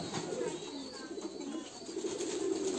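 Low, rolling coos come from pigeons taking a bath at a pigeon farm, several soft calls overlapping at close range over faint background noise.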